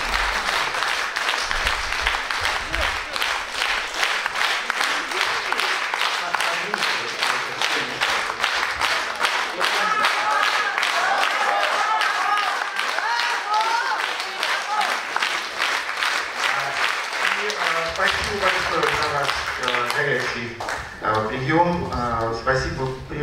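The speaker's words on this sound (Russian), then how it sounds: "Эти аплодисменты, они тоже вами заслужены" A concert audience gives sustained, dense applause to a cellist and pianist after a Sibelius and Tchaikovsky program, loud and continuous for about twenty seconds before a voice begins speaking over the tail.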